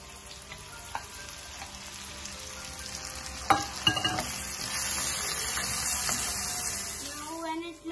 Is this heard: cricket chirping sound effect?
no